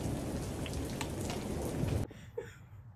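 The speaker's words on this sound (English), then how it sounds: "it's starting to rain!" Steady rain pours down in a broad, hissing wash for about two seconds and then cuts off abruptly, leaving only faint scattered sounds afterward.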